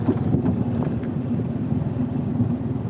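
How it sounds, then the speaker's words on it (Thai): Heavy wind gusts batter the microphone outdoors on a mountain evening, producing a steady low roar with irregular thumping bursts from start to finish. "ลมแรงนะเด้อ"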